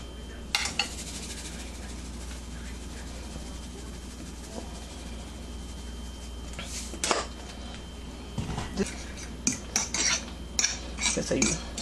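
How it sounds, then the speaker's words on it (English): A utensil clinks and scrapes against a pot while rice is stirred on the stove for a stuffed pepper casserole, with irregular metallic taps and scrapes that bunch together toward the end, close and moderately loud. "So you stir the rice up"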